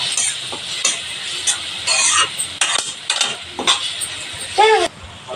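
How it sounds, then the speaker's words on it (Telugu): Turmeric frying in oil in a pan for a roasted chicken curry, with a soft continuous sizzle broken by several scraping stirs of a utensil against the pan, close and moderately loud. "పసుపు వేసుకున్నాం నూనెలో కొంచెం ఫ్రై కావాలి"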